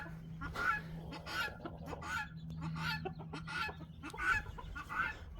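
Laying hens in a winter chicken coop cluck and call repeatedly at moderate distance, fairly soft, over a faint steady hum.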